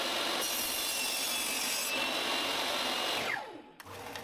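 Plywood being sawn in a steady, continuous rasping stroke that runs loud and close for several seconds before tapering off, with no talking.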